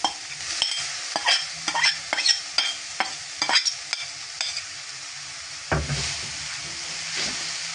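Cabbage being stirred and fried in a pan, with repeated spatula scrapes and knocks over a steady sizzle, then a louder burst of hissing partway through; no voices.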